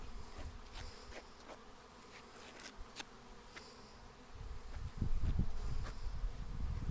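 A steady, close buzzing of many honeybees, a dense insect drone that grows a little louder toward the end, with no voices.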